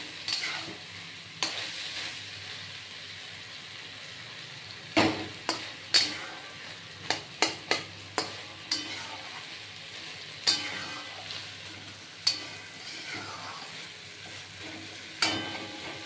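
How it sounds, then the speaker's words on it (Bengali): Pumpkin chhakka being stirred and mashed with a metal spatula in a wok, giving a soft ongoing sizzle broken by a series of sharp scraping clinks, close and clear, with no voices. "একটু এরকমভাবে খুন্তি দিয়ে একটু গালিয়ে দেবেন"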